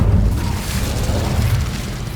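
Explosion from the Bombarda spell in the video game Hogwarts Legacy, a loud, sustained low rumbling boom with crackling debris that holds steady for the whole moment.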